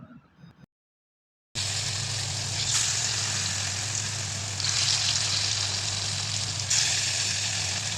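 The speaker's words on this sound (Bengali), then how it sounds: "বন্ধুরা, একই রকমভাবে আমি এখানে বাকি বড়াগুলোও ভেজে নিচ্ছি" Papaya fritters deep-frying in oil in a wok, a loud steady sizzle and bubbling that runs continuously after a short quiet gap at the start.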